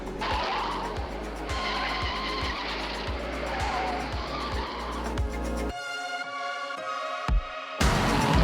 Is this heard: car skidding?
yes